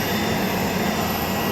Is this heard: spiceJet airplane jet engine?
yes